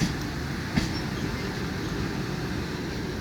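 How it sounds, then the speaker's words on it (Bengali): The Down Howrah–Joynagar Express, also called the Howrah–Deoghar Express, rolls past with a steady low rumble of railway carriages, one brief knock standing out early on, with no talk. "Down Howrah Joynagar express. এই ট্রেনের আরেকটি নাম আছে হাওড়া দেওঘর এক্সপ্রেস।"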